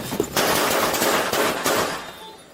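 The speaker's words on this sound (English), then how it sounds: "Shots fired, shots fired." Police officers fire at a suspect in a rapid burst of close, loud gunshots that crackle together for about two seconds before trailing off.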